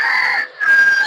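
A rooster crows once outdoors, a bright, sustained call with a brief dip in the middle before the second part rises again, clear and fairly close.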